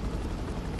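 A video game helicopter drones in a steady, broadband rotor roar that fills the short moment with no voices over it.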